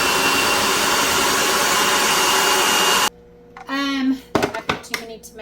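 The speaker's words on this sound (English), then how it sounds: "putting them in my food processor, because I'm going to take this down as much as I can" A food processor on its puree setting runs loud and steady, grinding a batch of garden tomatoes for canned sauce, then cuts off abruptly to quieter clatter of the bowl and lid being handled.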